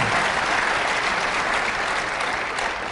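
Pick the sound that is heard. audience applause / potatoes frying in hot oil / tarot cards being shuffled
audience applause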